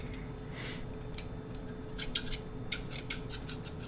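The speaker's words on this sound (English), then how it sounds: "that's a nice little snipping sound" Scissors snip repeatedly, crisp metallic cuts arriving in a quickening cluster of close, fairly loud clicks over faint room hum, in a quiet indoor ASMR setting.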